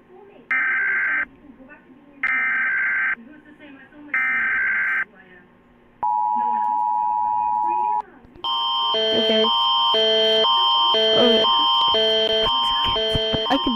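A run of Emergency Alert System alarm tones from different countries: short loud repeated beeps, a long steady tone, then a dense layered warbling alert that keeps going to the end, with talk in the background.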